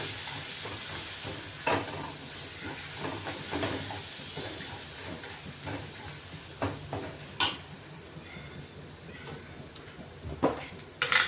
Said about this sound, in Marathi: ही फोडणी चांगली परतून घेणार आहेत आपण।